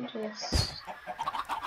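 A Minecraft chicken gives a few short, quick clucks in the game, mixed in with someone talking nearby.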